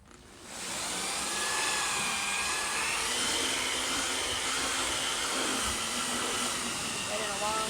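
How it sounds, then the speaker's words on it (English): A vacuum cleaner starts up and runs with a steady, high whine and airy roar, its pitch shifting slightly as it works across sandy car carpet. "give me 1 second to get behind my vacuum"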